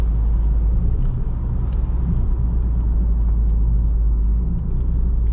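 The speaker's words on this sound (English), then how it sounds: "I wanted to get a little bit of drive and feel for this Camry" A 2021 Toyota Camry TRD V6 cruising on the road gives a steady, loud low rumble of engine and tire noise inside the cabin, unbroken throughout with no talk.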